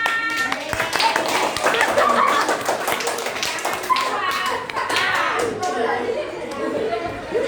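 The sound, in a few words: classroom children clapping hands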